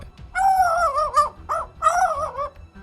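A mimicking bird produces a loud, close, dog-like barking call in two long warbling bursts separated by a short yelp, with no other sounds around it.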